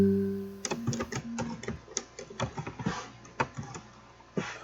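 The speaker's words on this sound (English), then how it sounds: "So now we can start typing our text" Typing on a computer keyboard while entering receipt details, a run of sharp irregular key clicks and taps close to the microphone, with a brief pause midway and a final firmer keystroke.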